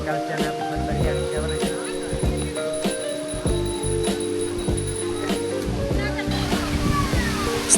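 Elephant Falls in Meghalaya, water cascading down several rocky tiers, heard as a steady broad rushing roar close by with sloshing and splashing textures throughout.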